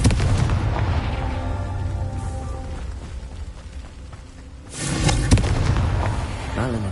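A Confringo blasting spell erupts in Hogwarts Legacy on PS5, a loud, booming fiery explosion with a rumbling tail and a second burst partway through, over a dense game soundtrack.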